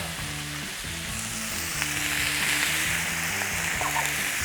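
Butter sizzling with smashed garlic cloves in a hot pan beside browning rabbit, a loud steady close frying hiss with a low rhythmic rumble underneath and no talk.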